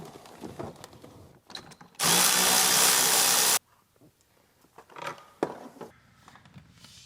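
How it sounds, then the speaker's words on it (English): A power tool zips out 15mm bolts holding a car's driver's seat, one loud steady whir lasting about a second and a half, very close, with quieter clanks and handling noise before and after. "We'll start by taking out the driver's seat. It's just a handful of 15mm bolts."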